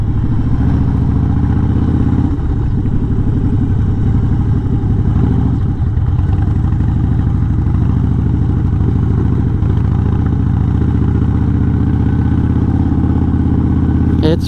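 A motorcycle rides along a dirt road to a lookout, its engine droning steadily and loudly close by, with rough clattering from the unsealed surface and no talk.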